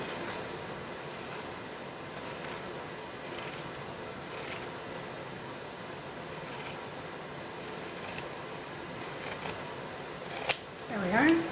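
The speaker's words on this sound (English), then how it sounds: "I like pinking shears because it cuts more fabric away than just straight scissors." Pinking shears snip through fabric in a series of close, crisp cuts with a steady rhythm, a little louder near the end, while a person talks over them.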